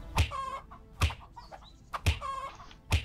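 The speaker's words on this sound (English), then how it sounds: "Oh my god, I just killed a chicken." Chickens in a knight-themed video game cluck and squawk in sharp, loud bursts about once a second, close and alone with no voices over them.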